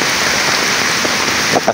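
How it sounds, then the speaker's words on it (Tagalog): Heavy rain pours steadily and loudly onto a surface, a dense continuous hiss with a few heavier drips near the end and no voices. "lakas kasi ng ulan"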